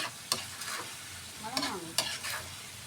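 Knorr chicken cubes are stirred into creamy mushroom chicken frying in a pan, with a few sharp spoon knocks and scrapes over a low, steady sizzle, close and fairly clear.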